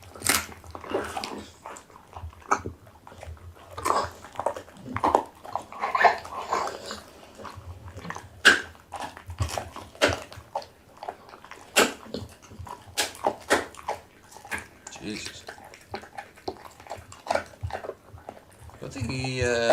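A dog gnaws and crunches at something hard, giving irregular sharp clicks and crunches with occasional low growls, close by while people talk over it.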